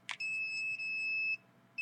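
A high electronic alarm gives one sustained beep lasting about a second, then cuts off before the next beep begins. It is fairly faint and steady, with no talking.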